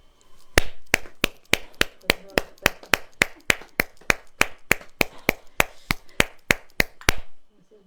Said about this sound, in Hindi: ताली बजाने का तरीका ये